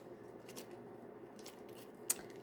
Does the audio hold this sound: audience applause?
no